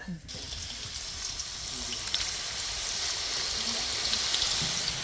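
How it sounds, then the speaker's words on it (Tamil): Hot oil readied for frying banana chips for Kerala Onam dishes, a steady broad hiss with faint bubbling and a brief knock at the start, likely with low voices in the background. "வாழைக்காய் சிப்ஸு எண்ணெய் நல்லா சூடாயிடுச்சு"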